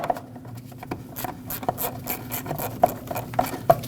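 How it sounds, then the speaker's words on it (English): A 10mm wrench loosening the negative battery terminal nut on a 2009-2010 Dodge Ram 1500, close metallic scraping and rubbing with a few sharp clicks spaced irregularly, no talking. "Use a 10mm wrench or socket and loosen this up"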